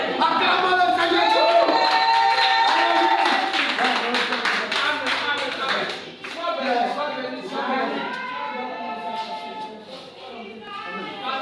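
A church congregation claps along during worship, steady rhythmic clapping running under singing and voices throughout, with a brief dip midway before the clapping resumes.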